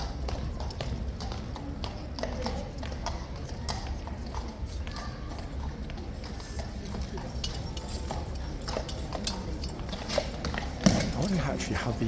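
Horse hooves clip-clop at Horse Guards in a steady, close, continuous rhythm on hard ground, while people talk nearby.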